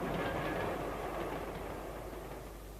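A passing train rolls by on the rails without stopping, a steady rumbling roar with faint clickety-clack that slowly fades over the few seconds, heard alone with no voices.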